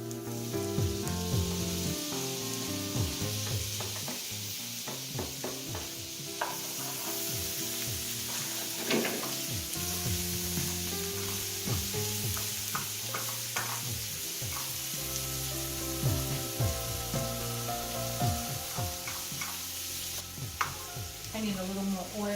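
Tomato hits a hot oiled pan of frying vegetable scrambled eggs, setting off a steady, loud sizzle with scattered stirring clicks and scrapes running throughout.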